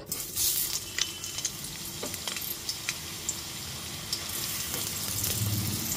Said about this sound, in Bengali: সমস্ত কেটে ধুয়ে রাখা বেগুনের টুকরোগুলো দিয়ে দেওয়ার পর গ্যাসের ফ্লেমটা মিডিয়ামে রেখে 3 থেকে 4 মিনিটের জন্য বেগুনটা একটু লাল করে ভেজে নেব